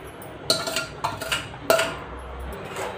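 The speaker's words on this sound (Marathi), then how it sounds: "आता चांगलं मिक्स करून घेऊ." Semolina stirred into sugar syrup in a metal pan for coconut rava laddoo, heard as several close, sharp clinks and scrapes of a spoon against the pan, spaced irregularly, with no talking.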